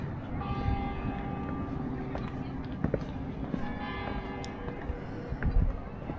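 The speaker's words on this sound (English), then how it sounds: "Bells are ringing." Bells ring out over a steady outdoor background atop the ancient city wall of Pisa, with sustained tones and occasional louder strikes while people talk nearby.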